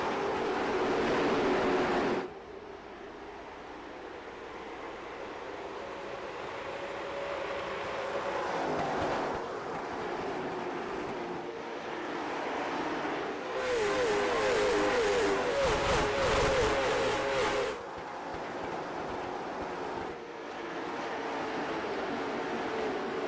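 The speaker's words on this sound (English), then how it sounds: "You don't really appreciate how fast these drivers are going until you can see them at speed passing that standstill camera" Race cars in iRacing roar past a fixed trackside camera, engines loud and sustained with rising and falling pitch, with sharp bursts as a pack sweeps by mid-clip and engine noise continuing throughout.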